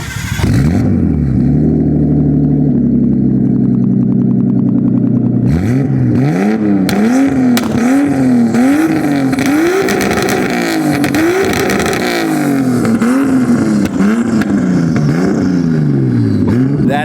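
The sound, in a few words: Nissan RB20 engine revving high, Tomei turbo, straight pipe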